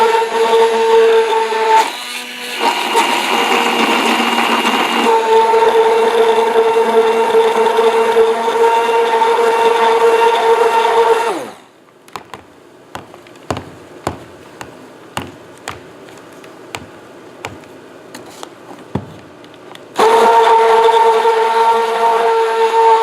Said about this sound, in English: So this immersion blender used for cooking,